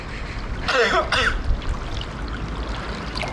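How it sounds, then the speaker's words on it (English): Beside a trout stream in the Driftless region, a person gives two harsh coughs in quick succession, with flowing water in the background. "That last cough scared me."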